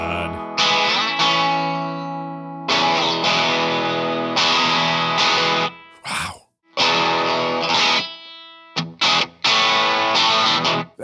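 Trebly, bright electric guitar through a Vox Mark III amp with tremolo, strummed chords and bursts ringing in phrases separated by short gaps, loud and close with no talking.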